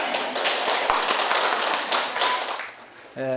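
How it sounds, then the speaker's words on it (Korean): Applause from an audience at a library literary lecture, a dense wash of many hands clapping steadily for about three seconds before fading, followed by a brief voice at the end. "박수 큰 박수가"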